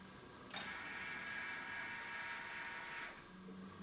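A homemade pick-and-place machine built from a DVD drive and an inkjet printer cartridge gives a steady mechanical whir with a sharp start and stop, running about two and a half seconds alone at close range.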